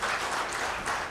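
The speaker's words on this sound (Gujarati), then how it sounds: "અમિત ખોવા માટે એક વખત જોરદાર તાળીઓ થઈ જાય" An audience at a comedy panel discussion applauds for a comedian, a short burst of dense, steady clapping from a crowd.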